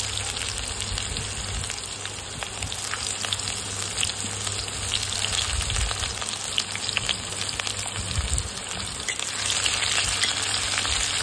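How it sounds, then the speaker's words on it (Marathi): Chopped onion frying in hot spiced oil, a steady loud sizzle and crackle that runs unbroken for several seconds, close up with occasional stirring. "कांदा आपला मस्त भाजून घ्यायचा, आपल्याला लालसर करून घ्यायचा"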